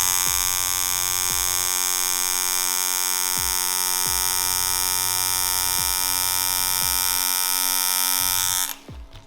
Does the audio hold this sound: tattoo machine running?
yes